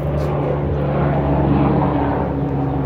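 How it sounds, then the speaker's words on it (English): An airplane passes overhead at a wooded park, its steady, rumbling engine drone filling the air loudly and evenly throughout. "That's a plane."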